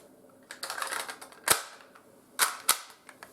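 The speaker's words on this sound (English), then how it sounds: "This is actually not a real gun. This is just some toy gun." A toy gun is fired in a room, giving several sharp, dry cracks spaced irregularly over a few seconds, with faint clicking and handling noise between them.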